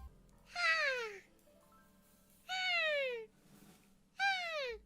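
A turtle mating call: three separate whiny, descending cries, each lasting under a second and spaced with quiet gaps, heard clearly over faint background hum.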